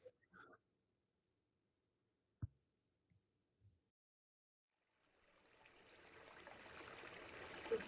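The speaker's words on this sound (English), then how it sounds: "We can walk around here and see the water sound" Quiet at first with a few soft knocks and footsteps, then a steady rushing splash of flowing water rises and continues, like a fountain being approached.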